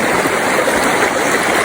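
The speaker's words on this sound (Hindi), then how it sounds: "अब पानी का प्रेशर कम हो गया" Rushing stream water near Khanpur Dam, a steady broadband roar of water flowing over stones, loud and close, continuous throughout with no voices.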